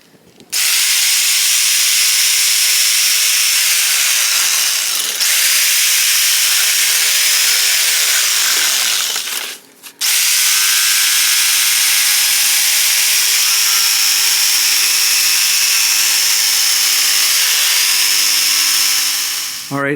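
A power tool cuts wooden brace pieces for a 4th-order bandpass subwoofer box, with a loud, sustained whining drone that dips in pitch under load, a brief pause midway, then a long continuous cut.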